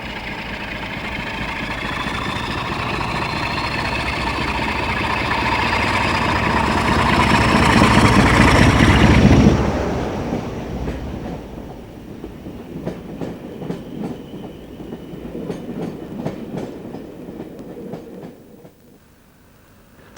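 Class 47 diesel locomotive 47742 hauling a passenger train roars past up close, swelling to a loud peak of engine throb and wheel rumble before fading into receding clicks and rattles of the coaches, then quiet.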